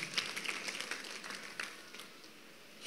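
A church congregation applauds during a Swahili sermon, giving dense, moderately loud clapping that fades slightly over a few seconds.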